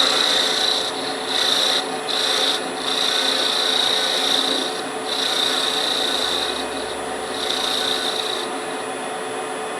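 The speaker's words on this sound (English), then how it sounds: "So sharpen the tool. Keep your tool sharp." A tool is sharpened by hand with steady back-and-forth rasping strokes, loud and close, repeating in an even rhythm with brief dips between passes.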